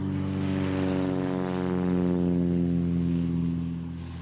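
A heavy propeller airplane takes off from an airstrip beside the Transamazônica highway in the Amazon jungle, its engine a steady loud droning hum that swells and then starts to fade as it moves away.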